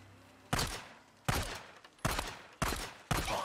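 Five loud, separate gunshots from the video game Days Gone ring out at uneven intervals, each a sharp crack with a short decaying tail over a quiet background.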